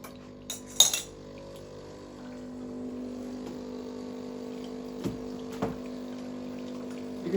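A Breville Barista Pro BES878BTR espresso machine runs a blank shot to flush water through the group head, with a steady pump hum and the flow of water, broken by a few sharp clinks of cup and metal.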